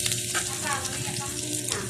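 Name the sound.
garlic sizzling as it is added to hot oil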